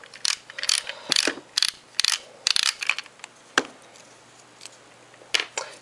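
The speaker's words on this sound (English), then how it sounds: "first I'm going to remove the screw from the plug that we got from True Value. Just loosen the screw that's at the top here." Top screw on an electrical plug housing being loosened with a screwdriver, producing a series of sharp close-up clicks and scraping turns in uneven bursts, with short pauses between them.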